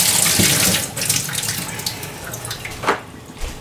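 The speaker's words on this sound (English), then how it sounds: "Wash your hands." Water runs from a kitchen tap as hands are washed, a steady close splashing stream that eases slightly and ends with a few louder splashes.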